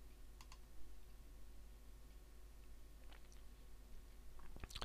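Someone types a short name on a computer keyboard, faint scattered key clicks over a low room hum, growing into a louder flurry of strokes at the very end.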